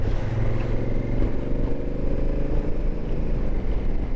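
A Honda Africa Twin motorcycle engine drones steadily while riding, a close, loud, even thrum with wind rush and no pauses.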